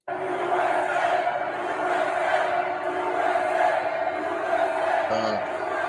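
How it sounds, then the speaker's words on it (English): A large crowd at a Trump rally cheers and shouts in a sustained, loud roar that holds steady without a break. "can we take a look at a Trump crowd?"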